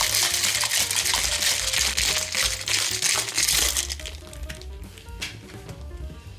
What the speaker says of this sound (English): cap that up, and give that a shake for 10 to 15 seconds to chill and combine